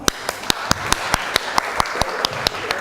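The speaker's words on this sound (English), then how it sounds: "And give yourselves a massive round of applause." Couples at a love workshop giving themselves a round of applause, a crowd clapping in a room with one close, loud pair of hands beating a steady regular rhythm above the softer group clapping.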